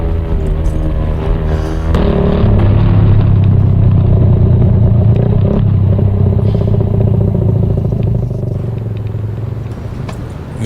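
A motorcycle engine runs close by at a loud, steady idle with a rough clattering rumble that swells and then eases off slightly toward the end.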